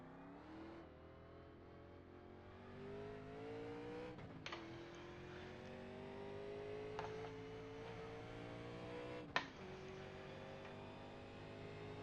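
A race car in the iRacing sim game pulls out of pit road at Atlanta, its engine revving up steadily through several gear shifts, loud and continuous with brief spikes at each shift.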